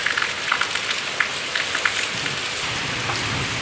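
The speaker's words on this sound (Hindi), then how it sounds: "झमाझम वाली बारिश शुरू हो गई है" Steady, dense rain pours down, hissing across the whole clip with scattered heavier drops spattering close by; no voices.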